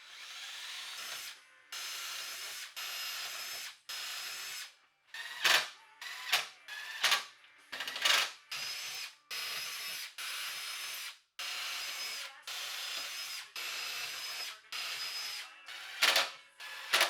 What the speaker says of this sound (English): I'm going to mount it to my box fan using some sheet metal screws